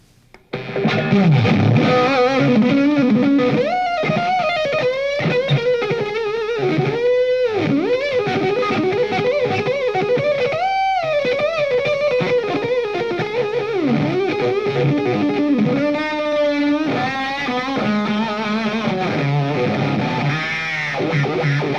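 Distorted electric guitar playing a continuous single-note lead line with strings bent up and down in pitch, loud and steady throughout.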